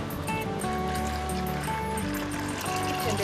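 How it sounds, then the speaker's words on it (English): Water poured into an oil base while making lotion, a steady continuous trickling and sloshing pour heard close up. "And then I'm going to add the water to the oil base."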